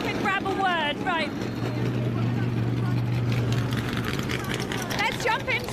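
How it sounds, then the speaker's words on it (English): A Chevrolet race car engine idling in the paddock at the Velocity Invitational at Laguna Seca, a steady low drone throughout, loud and near, with people talking over it. "He's actually got his engine running, so he's definitely not going to be able to hear me."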